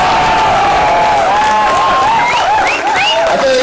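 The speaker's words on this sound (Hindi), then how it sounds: "अब आप एक बार जोरदार तालियां" Loud, dense applause from a crowd at a college comedy poetry event in Delhi for a poet, sustained throughout, with cheering and high shouting voices rising above the clapping.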